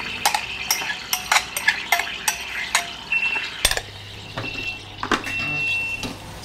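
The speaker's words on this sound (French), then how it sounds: "je vais laisser cuire 15 minutes à 105 degrés pour vraiment rissoler et commencer à faire des sucres et de la coloration" Carrots and shallots sautéing with lobster carcasses inside a Robotchef RT51A cooking robot: a loud run of quick scraping, clinking stirs over a steady sizzle, close by, with no talking.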